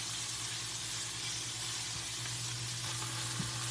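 Sliced onions caramelizing in a pan for patty melts, giving a steady, close sizzle and crackle of frying that runs unbroken throughout.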